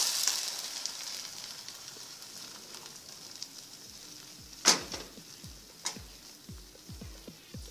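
Faint, steady sizzling from a pan frying ingredients for a parsley spaghetti sauce, with a few sharp clinks or ticks standing out over the quiet hiss.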